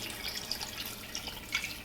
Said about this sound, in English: I get water, and I want to come up over the top of everything.